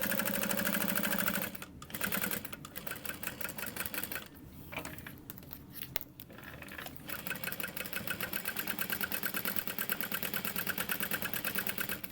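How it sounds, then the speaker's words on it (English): Sewing machine top stitching and basting fabric for a small sunglasses case, a steady fast mechanical chatter heard up close with a few brief stops before running on continuously. "we're going to top stitch and then continue basting around the outside edge"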